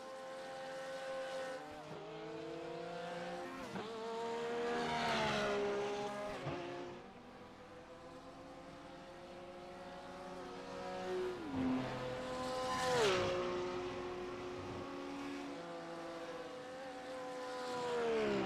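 Race cars lapping Spa in the iRacing sim during a 24-hour endurance event, engines whining through gear shifts with rising and falling pitch, several cars passing across a steady mechanical roar, no talk.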